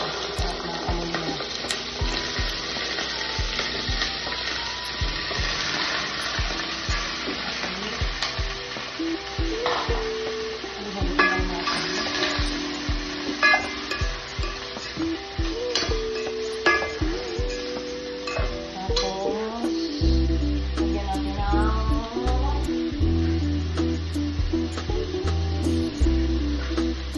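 Chicken for tinola fries in a pan with a continuous sizzle and occasional stirring scrapes and clinks, with music playing underneath throughout.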